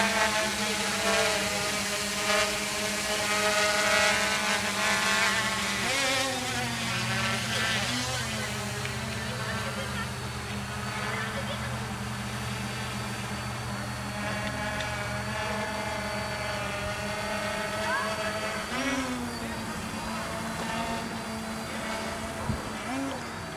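A child's new toy quadcopter drone hovers and flies nearby, its rotors giving a steady whirring buzz that rises and falls in pitch as it maneuvers, with people talking over it throughout.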